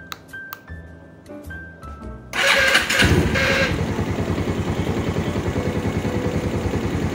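A custom Bajaj Pulsar 220 motorcycle engine cranks and fires up, then settles into a loud, steady, throbbing idle close by.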